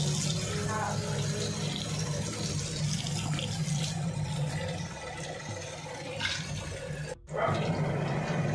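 Vegetables are washed under running water with a steady splashing rush close by. The flow stops briefly near the end, then carries on.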